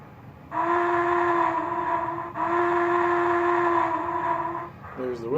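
An MTH Southern Pacific GS-6 4-8-4 model locomotive, #4460, sounds its whistle: two loud, sustained chime-like blasts with a brief dip between them, ending in a short falling tail.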